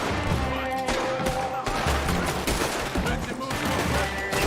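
Gunshots ring out in a Red Dead Redemption 2 shootout, repeated sharp cracks over a dense layer of game sound and music, with voices talking throughout.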